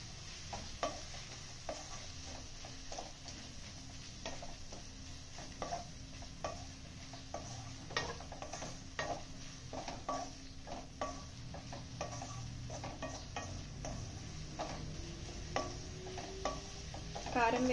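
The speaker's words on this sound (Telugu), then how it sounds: "కారం వేసుకున్నాక మంచిగా కలిపేసుకోండి" A spoon stirs a fenugreek and tomato curry with chili powder in a pan, giving repeated soft scraping clicks and light sizzling at a steady close level, with no talking.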